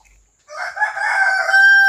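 A heavy, multi-coloured rooster with green legs crows once, loud and close, rising into a sustained drawn-out call.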